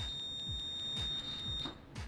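Multimeter continuity beep on a good fuse: a steady high-pitched tone sounds continuously throughout, with faint tapping and handling noises underneath.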